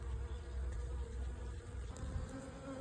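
Honey bees buzzing around a newly installed hive: a dense, continuous swarm hum close by, steady and moderately loud, with individual bees droning past and no voices.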